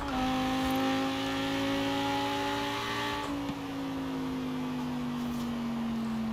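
Lamborghini Huracan Performante engine in Forza Horizon 4, a loud steady droning note that drops slightly in pitch partway through, with no talking.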